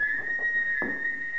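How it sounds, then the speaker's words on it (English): A single sustained high whistle tone holds steady for under two seconds, clear against a faint background with a soft thump partway through. "Suddenly, she hears a whistle."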